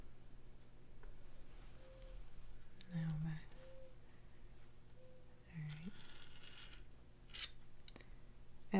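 Scissors trim striped polymer clay sheets with a few quiet, separate snips spread across the stretch, close and soft in a otherwise hushed room.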